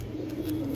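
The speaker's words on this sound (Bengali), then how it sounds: "এই যে দুটো একদম কোয়ালিটি দেখেন কবুতর" A racing pigeon gives a low, steady coo close by, one short unbroken call.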